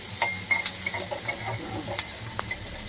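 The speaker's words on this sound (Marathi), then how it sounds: "2 बारकाले मिडियम साईजचे कांदे मी भाजून त्याला फ्राय करते" Two medium-sized onions fry in a pan, with a crackling sizzle broken by frequent spatula scrapes and light metallic clinks in an uneven rhythm, close by and fairly soft.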